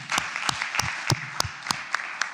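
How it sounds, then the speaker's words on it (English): Audience at a West Palm Beach city commission meeting clapping for a legislative aide, steady applause with sharp individual claps standing out, moderately loud and continuous throughout. "Y'all can give her a round of applause"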